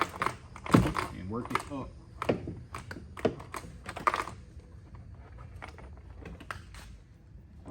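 Plastic clips on a Lexus door panel snap loose in a few sharp cracks and clicks amid rustling and handling noise, close by, with someone talking briefly over them.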